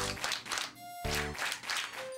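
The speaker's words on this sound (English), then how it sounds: "Now it's going to be your turn to try the clapping part." Clapping in rhythm alongside a children's TV song, bursts of hand claps in short groups over light musical tones, fairly quiet and repeated in a steady pattern.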